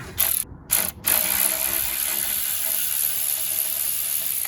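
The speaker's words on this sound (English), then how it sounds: "Now we're gonna start taking these 8 millimeter long bolts out." A ratchet wrench clicks briefly while loosening 8 mm bolts on a Jeep Grand Cherokee V6, with a few quick bursts near the start followed by a steady background hiss.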